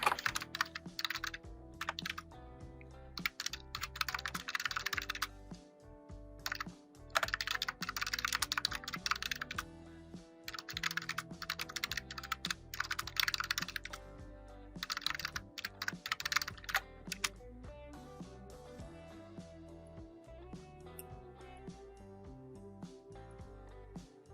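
Typing on a computer keyboard in bursts of rapid, light key clicks separated by short pauses, close and quiet, with no voice.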